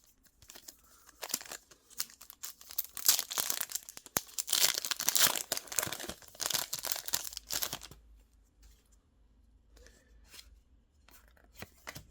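Foil booster packs of the US edition Pokémon Card 151 set are torn open one after another, a close, busy run of crinkling and ripping for about eight seconds that then thins to sparse, faint rustles.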